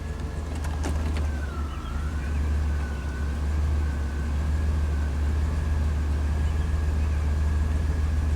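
A GM truck with a reduced-power P1515 fault idles nearby with a steady low engine drone and a faint thin whine, with a few light clicks near the start.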